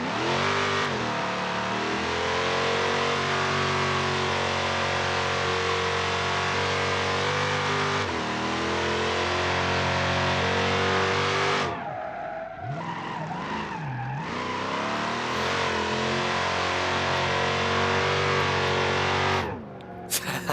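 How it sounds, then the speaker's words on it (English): A Hellcat-powered cop car in BeamNG.Drive does burnouts, its engine revving hard under long continuous tire squeal, with a short break as it shifts before the loud screech resumes. "So now we need to prove how good a burnouts this thing does."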